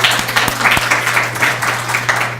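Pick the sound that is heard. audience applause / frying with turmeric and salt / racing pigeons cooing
audience applause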